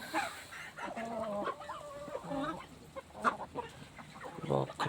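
Chickens cluck and call in a quiet farmyard alongside turkeys, with several overlapping short calls and a low background murmur, some of it faint.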